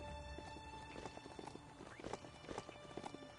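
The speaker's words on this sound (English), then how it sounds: "they gave you a wooden mechanical horse to ride" A wooden mechanical horse in the video game Biomutant clip-clops steadily, its hooves striking in a quick, even rhythm, fairly faint and continuous.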